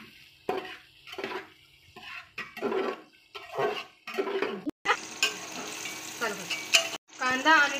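Onion and chopped tomato sautéing in a pan for a soybean biryani, with a spoon scraping and stirring in short bursts, followed by a steadier close sizzle.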